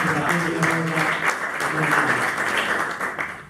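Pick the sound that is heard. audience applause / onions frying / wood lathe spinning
audience applause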